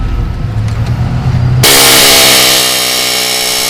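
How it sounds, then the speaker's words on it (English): An air chisel works on an early Ford Bronco during a front shock install, bursting into a loud, harsh, continuous pneumatic rattle partway through after a quieter stretch of shop noise. "This air chisel thing freaking kicks ass."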